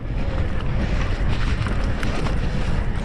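Strong headwind rushes over the microphone during an electric mountain bike ride in the Basque hills near Donestebe, a loud, continuous roaring buffet with low rumble and no pauses.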